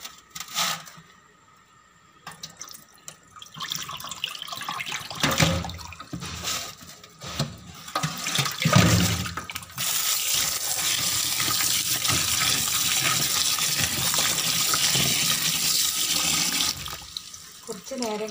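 Tap water runs steadily into a sink while orange peel is washed for pickle, a broad hiss that swells and continues for several seconds, with brief splashes and handling noises before it.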